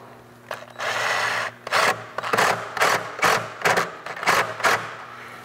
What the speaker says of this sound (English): we'll go ahead and tighten this side down